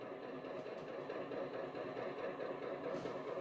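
A Stewart F7 model diesel locomotive fitted with a TCS V4 sound decoder and twin Tang Band speakers idles steadily, a continuous low engine hum with faint mechanical texture, quiet and close, alone without talk.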